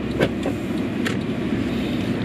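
Steady road and cabin drone inside a moving Mercedes E250 W212 facelift, with a faint electric motor whine of the sunroof opening and a few soft mechanical clicks, no talking.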